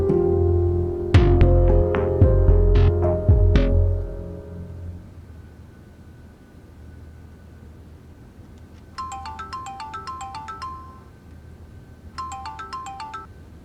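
A phone ringtone for an incoming call in a TV drama plays in two short bursts of bright repeating electronic tones, each a few seconds long and separated by a pause, after some louder clattering and music at the start.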